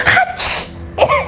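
A single close, loud sneeze bursts out in a short breathy sequence, an intake followed by an explosive hiss and a voiced tail, with no talking.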